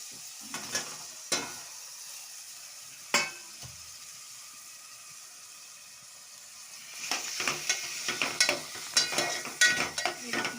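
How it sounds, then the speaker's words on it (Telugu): Tomato and potato pieces are stirred in a cauliflower curry pan over a high flame, giving scraping, clattering spoon strokes against a soft sizzle, with a quiet pause before a busier stretch of stirring. "ఇలా బాగా మిక్స్ చేసుకోవాలి"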